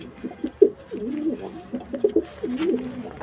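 A sick pigeon with loose green droppings coos in a series of low, throaty burbles close by, rising and falling in short repeated phrases.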